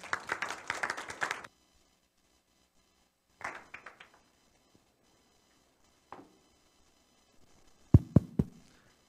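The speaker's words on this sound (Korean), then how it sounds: "큰 박수로 맞아주시기 바랍니다." An audience at a Korean labour movement forum applauds to welcome a professor to the podium. The opening burst of clapping is fairly lively and fades within a second and a half. A few scattered claps and sharp taps follow in a quiet hall.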